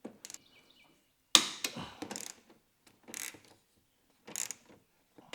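A ratchet wrench turns a socket while a trailer hitch goes onto a 2018-or-later Honda Gold Wing, giving sparse, close clicking bursts separated by quiet gaps.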